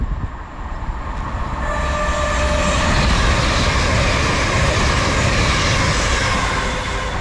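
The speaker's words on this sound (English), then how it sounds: "passing through now, got a whole train service from Beverley to London King's Cross" A Beverley to London King's Cross passenger train passes through a station on the East Coast Main Line close by, a loud steady roar of wheels and engine building up and holding throughout.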